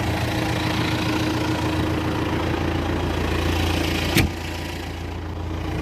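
A 2007 Claas tractor engine idles steadily with a low, rhythmic chugging, close by, and a brief click or knock near the end; no talking.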